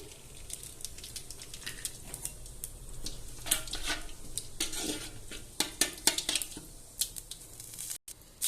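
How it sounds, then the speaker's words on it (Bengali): Bay leaf, cumin, cardamom and cinnamon dropped into leftover oil in a pot, crackling and popping in quiet bursts with occasional light scraping, the spattering growing busier toward the end. "এইখানে আমি তেজপাতা, জিরা, এলাচ, দারচিনি সব দিয়ে দিচ্ছি"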